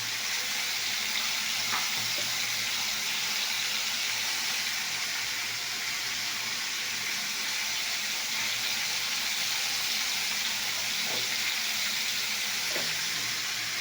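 Cumin seeds and chilies dropped into hot oil with ginger fry in a steady, hissing sizzle that stays even and unbroken, with a few faint clicks along the way.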